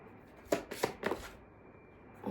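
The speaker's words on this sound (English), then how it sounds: "I'm feeling like I should just shuffle one more time" Tarot deck shuffled by hand, a few quick close riffling bursts, faint and without talk.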